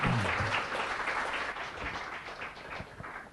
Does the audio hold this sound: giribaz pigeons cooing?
no